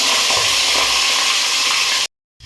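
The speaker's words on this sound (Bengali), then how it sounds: "মাছের মাথাটাকে নুন মাখিয়ে রেখে রেখেছিলাম এবার তেলে ছেড়ে দেবো" A salted fish head frying in hot oil, a loud, dense sizzle and hiss up close that runs for about two seconds and then cuts off abruptly.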